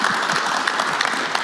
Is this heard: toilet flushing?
no